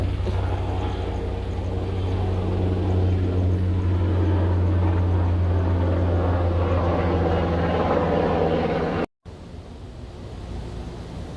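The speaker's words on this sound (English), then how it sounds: "There's helicopters and everything going by." A loud, steady low rumble of helicopters passing overhead fills the air, dropping out briefly near the end before resuming.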